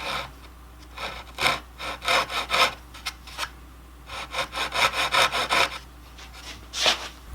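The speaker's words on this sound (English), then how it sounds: "So I'm just using this saw to kind of make a curve on the edges of where I need to put the Dremel." A hand saw cuts a curve into the edge of a wooden acoustic guitar back: steady runs of close, rasping strokes in quick rhythm, with brief pauses between bursts.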